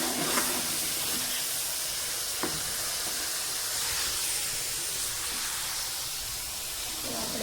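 Tempering (tadka) sizzles in a pan, a steady broad hiss running evenly throughout with a few faint clicks and no talking over it.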